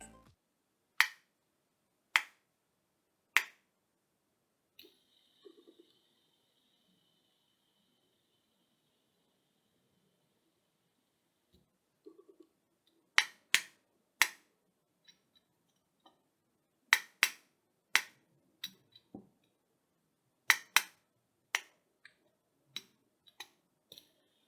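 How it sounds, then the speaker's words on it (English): A simple dimple fidget spinner with three colourful pop buttons makes sharp, isolated clicks and pops against near silence, some arriving in quick clusters with faint ticking between them. "It has 3 colourful buttons you can pop and the fidget spinner can spin for up to 30 seconds."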